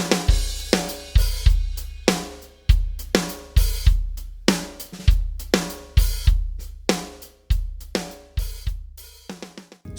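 A drum kit plays a beginner groove built up into a fuller beat. Punchy kick and snare hits land in a steady, driving pattern with cymbal wash, loud and close, with no talking.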